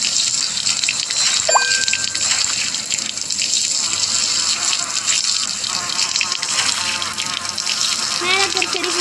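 Water poured onto garden plants makes a continuous splashing, gushing flow, close and steady throughout, with a voice speaking intermittently underneath.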